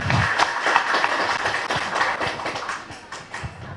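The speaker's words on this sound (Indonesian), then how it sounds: "Boleh kasih tepuk tangan dong untuk Bapak Kabid kita, Bapak Densya." An audience at a startup meetup event applauds a guest official with a dense patter of many hands clapping, fairly close and continuous for a few seconds with no talk over it.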